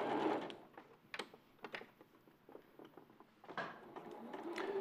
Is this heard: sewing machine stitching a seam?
yes